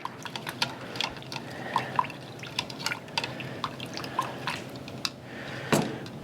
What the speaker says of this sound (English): I'll just stir all this together.